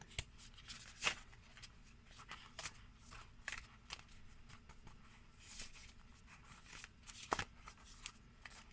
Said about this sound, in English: They're not as easy to shuffle as most cards.